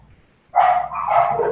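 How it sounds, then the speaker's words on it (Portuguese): A dog at home lets out a sudden loud bark and keeps on in a short yelping burst after a moment of near silence. "Vai ter uns latidos no meio do caminho, isso é normal aqui em casa."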